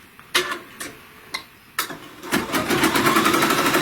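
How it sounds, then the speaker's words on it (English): A sewing machine stitching a quilting pattern on a Christmas stocking, a few separate clicks and short bursts at first, then settling into a fast, steady mechanical run, close and alone. "start stitching right there"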